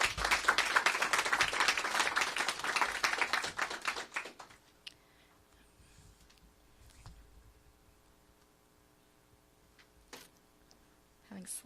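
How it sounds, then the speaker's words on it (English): Round of applause for Tubman Elementary School during a mayor's school report card announcement; dense clapping from an audience for about four seconds, then it stops abruptly, leaving a quiet room with faint hum and a few isolated bumps. "Let's give Tubman another round of applause."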